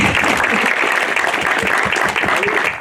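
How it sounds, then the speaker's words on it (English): An audience at a book launch gives a round of applause, dense sustained clapping that fills the room evenly at a strong, constant level, with faint voices beneath. "round of applause for Emer"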